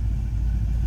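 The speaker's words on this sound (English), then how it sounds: "Start this up, let it warm up just a little bit." A 1966 Ford Mustang coupe with a 289 V8 idles with a steady, loud, low rumble close by, with no other sounds.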